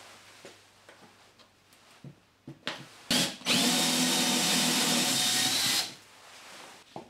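A power drill bores a hole into plasterboard for an Ezgrip fixing: a few short taps and bursts, then a sustained, loud whirring run of a couple of seconds before it stops.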